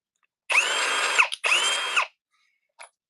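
A Ryobi PBLDD02 drill whines in two sustained bursts of about a second each, separated by a brief pause, close and clear, followed by a short faint blip.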